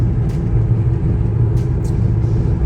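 A car cruises steadily along a long road drive, its low engine and road rumble continuous and close, with a few faint higher whooshes passing over the drone.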